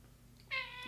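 A domestic cat gives one brief, quiet meow close by, rising out of a low hum.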